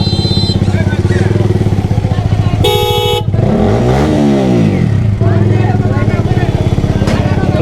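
Motorbike ridden on a busy road near a bridge, a loud close engine drone with steady rhythmic pulsing, a brief horn toot, passing vehicle sweeps and a voice talking over it.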